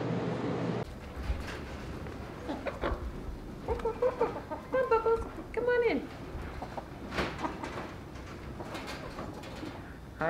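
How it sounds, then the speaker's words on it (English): Chickens in a school's outdoor coop cluck in short, scattered bursts, clustered in the middle, over a steady low outdoor background with some faint talk. "as you can see out here is our chicken coop"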